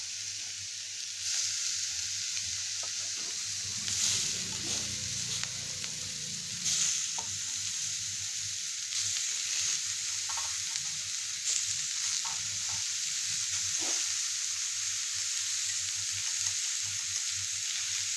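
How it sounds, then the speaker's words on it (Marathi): Mushrooms sauté over a low flame, a steady soft sizzle running the whole time, with occasional scraping stirs and light clicks of a spatula against the pan. "हे मंद गॅसवर 2 मिनिटं आपल्याला परतून घ्यायचं"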